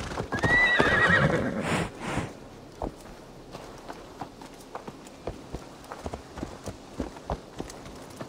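A horse in Assassin's Creed Valhalla whinnies loudly at the start, then its hooves clop in a steady walking rhythm, close and distinct over a quiet background.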